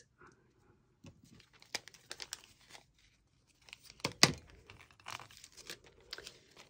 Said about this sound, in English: could cut down a couple of cello bags